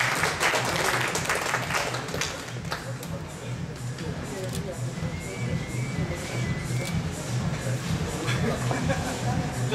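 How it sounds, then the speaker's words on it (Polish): Audience applause at a 2012 fitness event in Poznań as a winner is announced, crowd clapping mixed with talk and a loudspeaker voice, fairly constant and moderately loud throughout. "Brawa dla kolegi."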